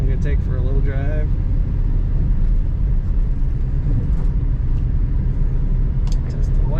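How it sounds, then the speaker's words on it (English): A 1968 Ford Mustang Sprint two-door hardtop coupe rolls along, its steady low road rumble and engine drone filling the cabin under brief bits of a voice. "Today we have a 1968 Ford Mustang Coupe. I'm going to take for a little drive."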